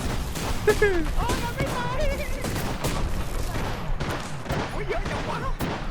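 Rapid gunfire from the video game Apex Legends, dense bursts of shots running continuously throughout, with excited voices talking over the shooting.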